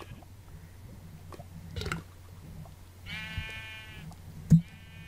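A single drawn-out sheep bleat in a video game rises over a quiet droning background, followed by a short second bleat and a soft pop.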